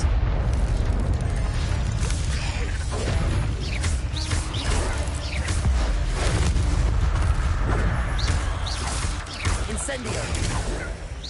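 A combat spell cast in the video game Hogwarts Legacy amid a spider fight: continuous loud booming and crashing effects with a dense rumbling low end, under a speaking voice.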